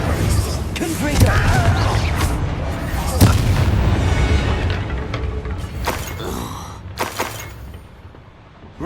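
In Hogwarts Legacy, the Confringo fire-blast spell goes off with a loud, rumbling explosive whoosh that fills the scene, mixed with crackling impacts and combat noise.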